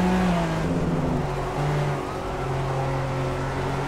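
Engine of a Lykan HyperSport racing car in Project CARS, a loud close whine with tonal gear pitches sliding and shifting as it revs, no voices over it.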